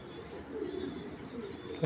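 Soft, low pigeon cooing rolls in a continuous murmur, fairly faint beneath a steady background hiss, with no distinct breaks.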